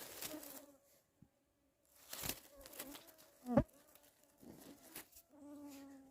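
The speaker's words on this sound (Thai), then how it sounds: "อุ้ย ยุง" Mosquitoes in a Finnish forest, a thin, faint insect buzz rising and fading around the listener, broken by a few soft knocks and rustles.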